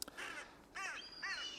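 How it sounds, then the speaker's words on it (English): Crows caw in loud, separate calls near a Bradford grave, with several harsh caws following one another and no talk over them. "Sorry about the crows."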